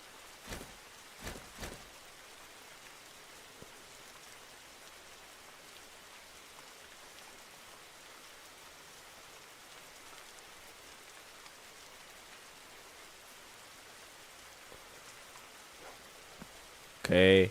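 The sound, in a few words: rain falling in a Roblox video game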